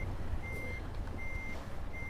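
A Mercedes Actros truck in Euro Truck Simulator 2 backs under a trailer, its reversing alarm beeping steadily in repeated tones over a rumbling engine.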